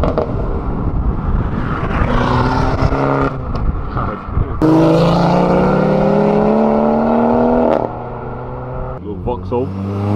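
A small Vauxhall drives past while leaving the Silverstone circuit. Its engine rumble is loud and close and builds as it passes, and people talk over it throughout.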